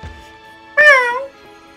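A single cat meow rings out in Pokemon Sword, a clear, close, rising-then-falling cry lasting about half a second, surrounded by near silence.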